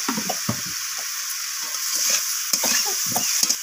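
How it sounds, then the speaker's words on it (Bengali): Potato pieces frying with spices and a splash of water in a pan, a steady bright sizzle under repeated scraping stirs of a utensil against the pan, close up with no talking. "তো আলুগুলো দেওয়ার পর এইভাবে আমি মশলার সাথে কষিয়ে নিচ্ছি।"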